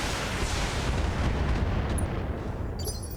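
Heavy weapons fire from battling mechs in the BattleTech video game: a dense, continuous barrage of loud booming blasts and rumbling impacts with no pauses.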